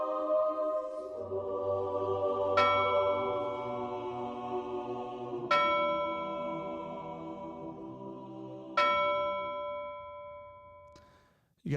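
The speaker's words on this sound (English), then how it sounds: "You guys like those bells?" Church bells ring in slow, evenly spaced strikes, four in all. Each struck tone hangs and fades before the next, with a rich low hum under the chime.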